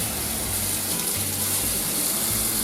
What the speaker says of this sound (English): We're going to clean our duck legs under cold running water to get all the excess of salt off.